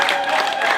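A graduation audience at a theology school in Houston, Texas, applauds in a steady, dense patter of many hands clapping. The sound is fairly loud throughout the short stretch.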